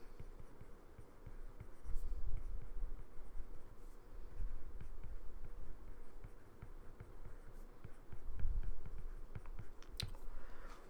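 A pen or pencil scratches steadily across paper while an equation is written by hand, a soft close-up scribbling in short strokes and pauses, quiet throughout.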